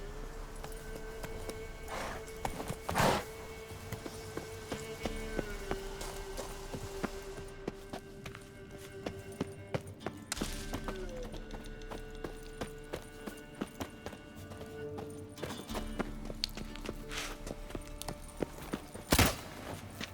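Roach the horse walks in The Witcher 3, with faint, quiet hoof clip-clops repeating at an unhurried pace beneath game music and ambient tones, punctuated by a few sharper bursts.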